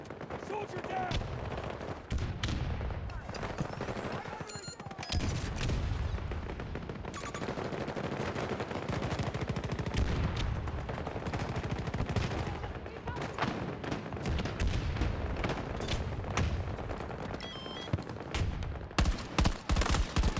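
Rapid automatic gunfire from a video game played on PC, dense bursts of shots and heavy firefight noise running almost continuously, with a player's voice speaking over it at times.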